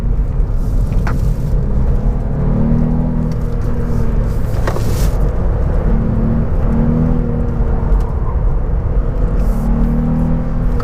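An Up! GTI hatchback accelerating hard in second gear on an open road, a loud steady engine drone and road rumble throughout, with faint brief tyre squeal barely rising above it.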